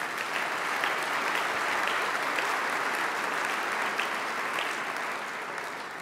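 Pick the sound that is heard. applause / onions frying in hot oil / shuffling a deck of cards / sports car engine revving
applause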